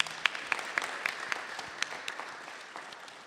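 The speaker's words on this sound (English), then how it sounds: "Please give Vyas ji a round of applause" Applause at the close of a Bhagavat Katha gathering honoring the speaker, starting with a few sharp individual claps near the front and thinning into softer, scattered clapping from a modest crowd.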